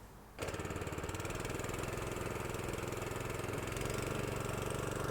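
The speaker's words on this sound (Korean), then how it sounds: "엔진은 현재 혼다 GX160 6마력짜리로 올려져 있고요" A Honda GX160 6 hp engine on an SD20 plastering machine catches almost immediately and runs at a steady, rapid, close throb for the remaining seconds with no talk.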